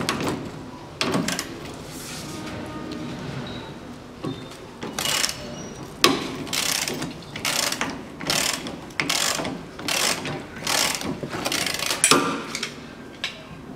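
A ratchet wrench tightening replacement bolts on the leaf spring shackles of a 1985 Isuzu Trooper, with bursts of quick clicking strokes repeated in close, loud runs separated by short pauses, and no voices.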